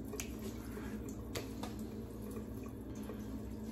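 Water splashing and dripping in a bathroom sink as a freshly shaved face is rinsed with a Game Changer safety razor routine, a steady close wash with small irregular splashes.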